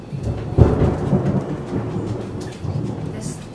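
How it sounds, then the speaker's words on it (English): Loud rolling thunder from a thunderstorm rumbles through the whole stretch, with a sharp crack early on and rain hissing steadily underneath. "This thunder is crazy!"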